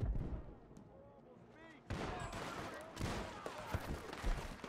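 Gunshots in Red Dead Redemption 2 online play crack out in several sharp bursts over game ambience, with someone speaking Turkish during the firing.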